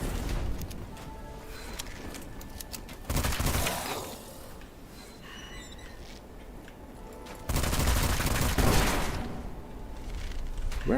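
Bursts of enemy gunfire in the video game Witchfire, two loud volleys separated by quieter stretches of distant shots and ambient rumble, with no speech over them.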